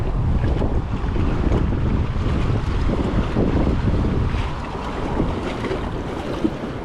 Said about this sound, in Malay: Angin memang kuat pula.